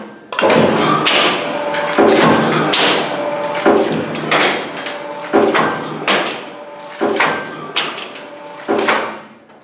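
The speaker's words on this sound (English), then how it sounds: "demonstrate cutting of small strips" A CIDAN Rapido sheet-metal shear cuts small strips in an automatic run. About eight loud, evenly spaced clanking cuts repeat roughly once a second, each one a sharp thump with a metallic ring that fades.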